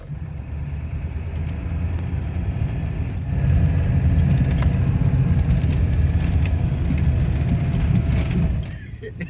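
An old pickup truck drives along with a steady, heavy engine rumble and road noise from inside the cab; the drone swells a little partway through before easing off.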